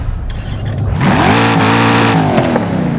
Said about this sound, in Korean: 제가 엔진 소리 한번 바로 들어볼게요.